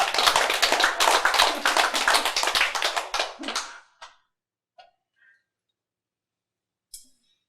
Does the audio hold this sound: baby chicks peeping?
no